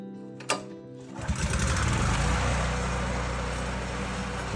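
An old Honda generator that sat for ten years sputters to life after a sharp knock, then settles into a loud, steady buzzing run close by.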